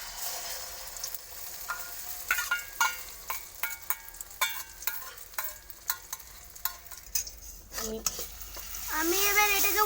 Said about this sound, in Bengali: এবার আমি ডিমটা ঢেলে দেবো।